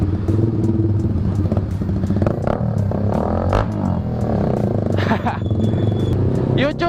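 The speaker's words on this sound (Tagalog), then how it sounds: "Nakita natin yan, naka-open pipe na yun." Motorcycle fitted with an open-pipe exhaust revving loudly on a street on New Year's Eve, its engine clatter running throughout amid crowd noise and people talking nearby.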